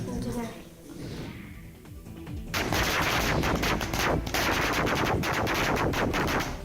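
Rapid bursts of fireworks crackle and pop loudly and continuously after a quieter stretch with background murmur, the explosions overlapping in dense volleys.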